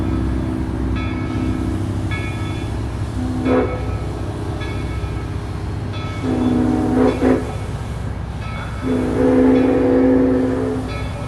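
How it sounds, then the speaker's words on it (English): A steam train pulling out of a station sounds its whistle in several separate blasts, short then longer, over a continuous low rumble of rolling rail cars. "The train pulls out of the station, heading to the North Pole."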